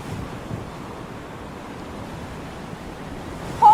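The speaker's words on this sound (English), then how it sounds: "This storm just won't stop." Stormy sea with wind and crashing waves, a continuous low rushing roar of surf and gusts that stays steady, with a brief louder burst near the end.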